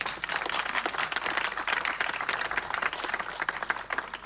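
A church congregation claps together during a lively worship service, with dense, sustained applause that fills the room at a steady level and no voices standing out.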